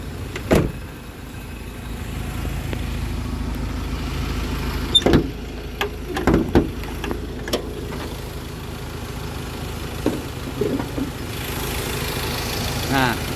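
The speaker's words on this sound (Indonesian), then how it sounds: "inilah mesin Ford Ranger yang XLS 2200cc, dual torque, TBCI, turbo intercooler" A 2015 Ford Ranger T6 XLS pickup with a 2.2-litre turbo intercooler engine idles steadily at a low, even rumble, broken by clicks and knocks nearby and some talk over it.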